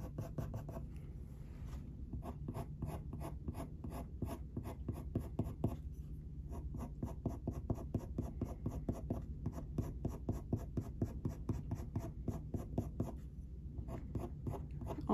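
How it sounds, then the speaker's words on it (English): Coloured pencil scratches across paper while a spaniel is being drawn, the short strokes repeating in a steady rhythm and each one flicked off at the end. The sound is close, quiet and continuous, with a few brief pauses. "releasing your pressure right at the end of each pencil stroke."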